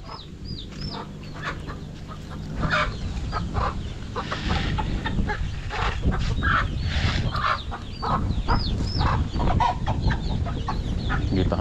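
A hen clucks steadily among her chicks while the chicks' thin, high peeping repeats throughout, close and continuous over a busy farmyard background.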